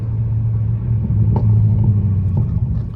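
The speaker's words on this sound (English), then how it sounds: "That car loud as hell." A loud 500 hp Dodge Scat Pack or Hellcat V8 car engine rumbles steadily nearby, a deep continuous drone with slight swells in level throughout, and no voices.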